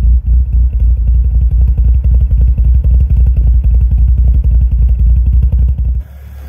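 A BMW E36 with an M43B16 four-cylinder and a freshly swapped hot cam idles roughly and loudly close by, a steady choppy throb with uneven pulses, then cuts out abruptly near the end.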